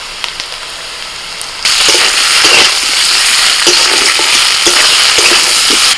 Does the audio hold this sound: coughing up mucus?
no